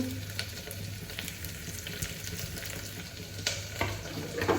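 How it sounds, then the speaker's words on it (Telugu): Onions, green chillies, bay leaf, cinnamon, cloves and other whole spices sizzle in a pan for egg pulao while a spatula stirs them, making a close, steady hiss with light scraping and a few sharp clinks. "అన్నీ వేసి తిప్పుతున్నాను."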